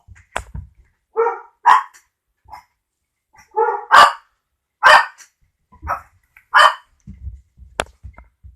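Dogs barking in a home, scattered single and paired barks spaced a second or so apart, close and loud, with quiet knocks and shuffling between them.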